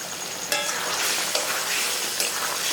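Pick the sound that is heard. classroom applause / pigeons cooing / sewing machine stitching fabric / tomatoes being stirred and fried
tomatoes being stirred and fried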